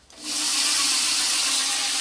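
A homemade paint shaker spun by a power drill whirs up after a brief start, then holds a loud, steady high-pitched spinning rush to the end, with no talk.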